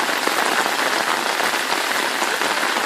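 Steady rain falls in a Punjab village, a dense even hiss of drops on surfaces blending with flowing water, close and continuous without any voices.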